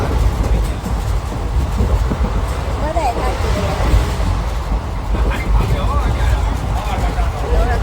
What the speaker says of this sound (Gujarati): અમે અત્યારે ટ્રેનમાં બેસી ગયા છીએ